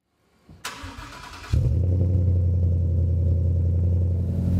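A 2015-2017 Ford Mustang GT with a MagnaFlow Competition quad-tip exhaust cranks with a few clattering turns, then fires up into a loud, deep, steady idle rumble close by.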